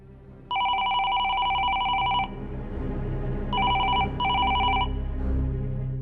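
A telephone bell rings: one long trilling ring, a pause, then two shorter rings in quick succession, loud and close over a low room murmur.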